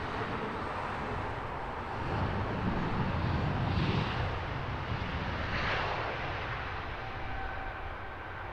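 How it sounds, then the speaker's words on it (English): A British Airways Airbus A350-1000 arriving at Heathrow from Tokyo, landing with a steady broad jet roar that swells through the middle and then eases, heard at a distance without talk. "number 3 to land, British Airways A350 1000"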